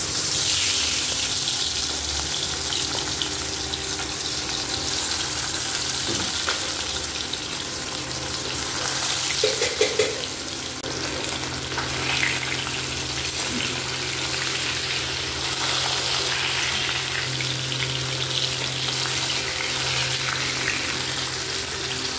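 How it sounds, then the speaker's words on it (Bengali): Fish sizzles and bubbles in a frying pan in a home kitchen, a steady hissing fry that runs loudly throughout, with a brief clatter midway. "মাছটা এত ফুটছে"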